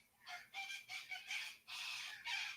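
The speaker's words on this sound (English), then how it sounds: "Listen to those birds going off over there." A rooster crows repeatedly nearby, with several drawn-out calls in quick succession alongside clucking fowl, loud and clear with no talking.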